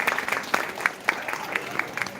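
Audience applause at a public event, a modest round of clapping with a few distinct louder claps standing out against a continuous softer patter, fairly close and moderately loud.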